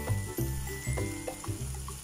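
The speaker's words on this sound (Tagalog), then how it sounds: "Add lang natin siya ng konting tubig." Water poured into a pan of vegetables gurgles and splashes in a few pulsing bursts, close and fairly loud, with a soft sizzle underneath.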